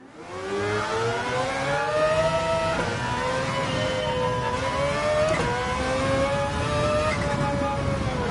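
A Mazda 787B race car in Gran Turismo 7 revs hard and loud, its engine note climbing steadily in pitch, dipping briefly between gear changes, then rising again as it accelerates, with no voices over it.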